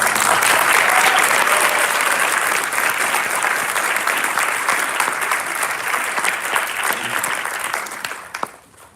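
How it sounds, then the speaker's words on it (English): An audience at a board of education meeting breaks into sustained, loud applause that holds steady for several seconds before tapering off at the end. "I'd like to have a round of applause for Ms. Ferrara."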